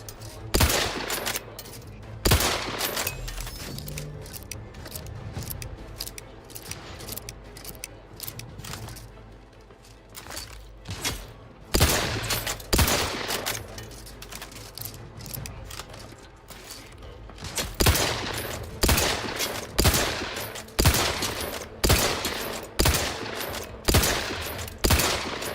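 Outer Worlds 2 combat on the hardest difficulty: loud, sharp gunshots fired in irregular bursts and rapid volleys over about 25 seconds, some single cracks and some fast strings, with mechanical clicks between.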